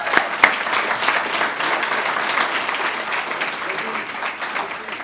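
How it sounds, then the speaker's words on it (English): Sustained, dense applause from a crowd at a chamber of commerce small business awards held at Thorny Lea on a spring day, even and continuous throughout with a couple of sharper claps at the start and voices beneath. "Get a round of applause for that."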